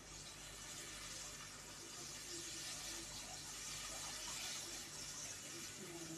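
Steady rushing of water pouring into a pot, a continuous broadband splash that holds for several seconds without pause.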